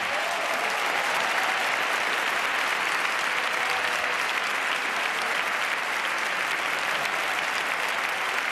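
Audience applause at a tribute concert in Madrid, a dense, steady wash of clapping from a large crowd lasting several seconds with no talk.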